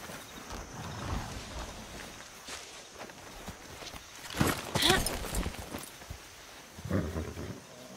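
A horse in the video game Far Cry 6 moves with faint hoof clops and rustling, followed by a couple of louder snorting or whinny-like bursts at moderate distance.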